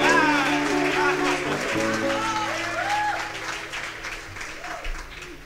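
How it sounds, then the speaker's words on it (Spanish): An audience at a live comedy show in La Trastienda applauds Verónica. Steady clapping fills the room and fades gradually, with voices and murmuring mixed in. "Aplauso a Verónica, ¿estás parada ahí?"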